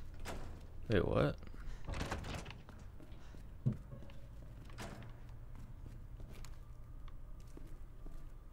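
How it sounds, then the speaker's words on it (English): In Resident Evil 2, a door opens with a mechanical sliding and clunking rush followed by a sharp knock. Footsteps and a faint game ambience follow, and a player talks over it. "Oh, I can open this door."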